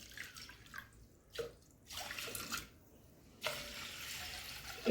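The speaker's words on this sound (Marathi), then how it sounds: "एक तांब्या पाणी टाकते" Water from a pot pours and splashes onto washed rice in a cooking vessel, in short bursts with brief pauses between, close and fairly loud, with no talk.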